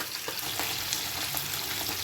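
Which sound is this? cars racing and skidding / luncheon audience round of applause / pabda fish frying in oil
pabda fish frying in oil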